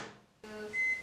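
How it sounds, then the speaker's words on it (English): A microwave oven heating butter and milk starts up with a click, then gives a low steady hum with a brief tonal whine. The sound is short and fairly close. "We're going to put those in the microwave for about a minute, just until the butter is melted and the milk is about lukewarm"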